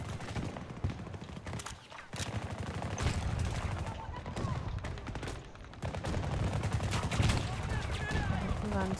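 Gunfire during an infantry Conquest battle on the Reclaimed map in Battlefield 2042: repeated automatic bursts and single shots crack near and far throughout, with occasional louder volleys and a voice speaking over them.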